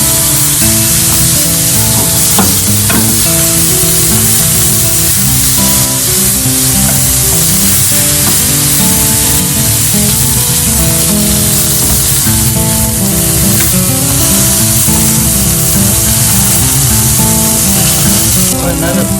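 Pork steak sizzles loudly and steadily in a hot pan, a dense continuous crackle of frying that stays close and unbroken throughout with faint music beneath.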